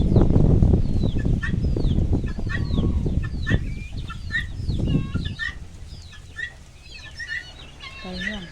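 Chickens cluck and chirp repeatedly in short bursts, with a busy low rumble of movement and faint background voices.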